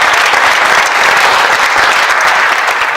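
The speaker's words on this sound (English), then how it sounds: "a round of applause for the university" Steady, loud audience applause fills the room without pause at the opening of an exhibit on Jewish refugees in Shanghai, with dense clapping from a large crowd and no voices over it.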